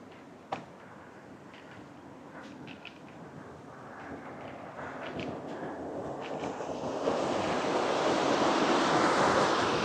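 Water pours steadily over an overflow weir on the Grand Union Canal. A broad rushing roar grows louder as it is approached and crossed, with faint wind in the background.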